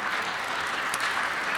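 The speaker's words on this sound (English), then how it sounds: "hopefully we can give them all a round of applause" Steady applause from an audience at a Los Angeles City Council meeting, a dense, even clatter of clapping hands filling the room without a break.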